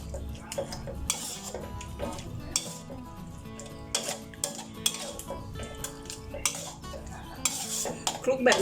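A metal spatula scrapes and knocks against a pan while stirring toasted rice, giving irregular clinks and taps over a soft scraping bed, close and moderately quiet.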